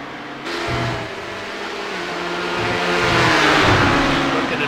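Sportscar engines in the iRacing sim race at Imola roar past in a steady wall of noise, with engine pitch climbing and shifting as cars accelerate and a louder pass building toward the end.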